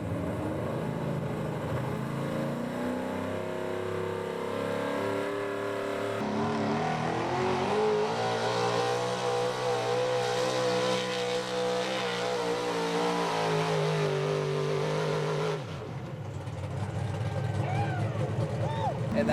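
A 1976 Ford big block 4x4 truck roars through a truck pull in Fishersville, Virginia, its engine revving hard and climbing in pitch for a long run before cutting off, with an announcer's voice faintly under the noise.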